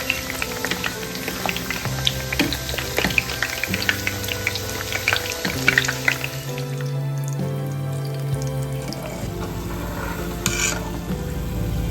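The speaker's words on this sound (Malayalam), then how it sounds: "നമുക്കത് മറിച്ചൊക്കെ ഇട്ട് നല്ല ക്രിസ്പായിട്ട് നമുക്ക് ഫ്രൈ ചെയ്തെടുക്കാം കേട്ടോ." Nippattu snacks deep-fry in hot oil in a continuous bubbling sizzle, with stirring and turning noises as they crisp, while steady music plays underneath.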